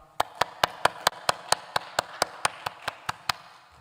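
Rhythmic clapping of thanks during a church service, about sixteen crisp, evenly spaced claps in a quiet, nearly empty hall, sounding like a single person or a few people.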